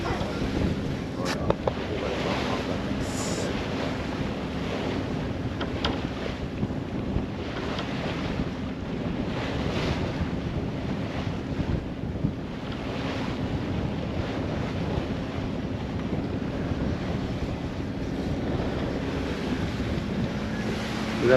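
Constant wind buffets the microphone over the rush and slosh of waves against a moving boat heading into a 13-knot headwind, steady and loud throughout.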